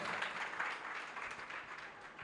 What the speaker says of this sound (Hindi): ये एक बार उनके लिए जोरदार तालियां बजाइए।